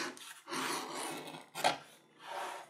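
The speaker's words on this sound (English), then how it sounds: "But the rest of it can be edge beveled right now." An edge beveler rasps along the edge of a leather gun stock cover in three short scraping strokes with brief pauses between them, close and fairly quiet.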